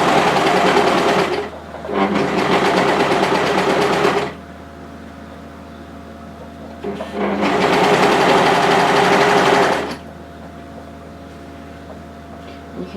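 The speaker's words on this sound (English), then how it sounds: "we're going to go through a few layers of fabric there with our overlocker" An overlocker stitches through several layers of striped fabric in two steady, loud whirring runs of about two and six seconds, separated by quiet pauses with a low hum.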